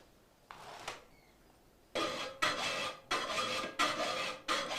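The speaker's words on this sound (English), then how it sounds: "First, he does a rough filing." A file rasps across a katana blade during rough filing in a traditional Japanese swordsmith's workshop, with a few quiet strokes followed by repeated loud, rhythmic scraping passes close by.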